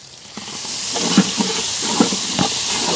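Ginger garlic paste sizzling in a pot at an outdoor campsite, cooked with onions, tomatoes and mint for a prawn biryani: a loud, steady hiss near the pot, broken by a few soft pops and clinks.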